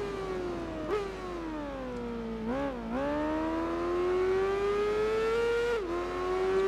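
A Suzuki GSX 1000 racing motorcycle in Tourist Trophy revs hard and steadily, its engine pitch climbing, dipping briefly at gear shifts, then rising again, loud and close with no talk.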